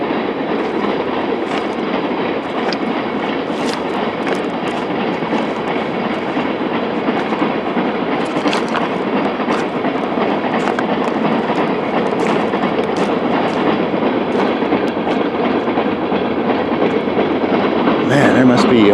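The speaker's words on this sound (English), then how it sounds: "Oil train." An oil train rolls past on rails in winter, a loud continuous rumble with rhythmic clickety-clack of wheels over joints, sustained throughout and building slightly toward the end.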